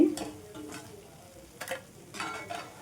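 Potato bajji batter frying in hot oil produces soft, intermittent surges of bubbling sizzle that swell and fade every second or so, fairly quiet and with no one speaking.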